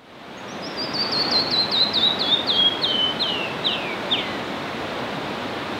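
A canyon wren beside a river canyon sings its cascading song, a run of about a dozen clear, sweet notes that descend and slow, heard over the steady rush of flowing water.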